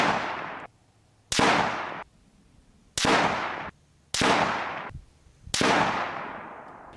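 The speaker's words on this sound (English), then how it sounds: "Then I removed the suppressor and fired another 5-round group." Five loud, sharp gunshots from an unsuppressed rifle fire at an even pace, each blast ringing out with a long decaying echo before the next, no talk.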